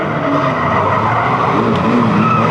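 Trailer race cars skid and spin on the Fleet Raceway oval, a loud, dense roar of engines mixed with tyre scrubbing and squeal that holds steady throughout without voices.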